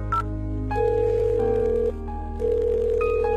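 Telephone tones as a call is placed: a steady electronic dial tone with shifting pitched beeps layered over a low hum, continuous and fairly loud with no talking.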